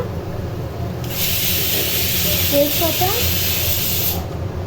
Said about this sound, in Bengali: এর মধ্যে এবার ফোড়ন দেবো তেজপাতা